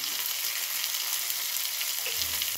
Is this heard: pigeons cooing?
no